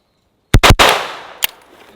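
An AR rifle fitted with a muzzle brake fires three sharp, loud shots in quick succession with a rolling echo, then one more shot follows about half a second later.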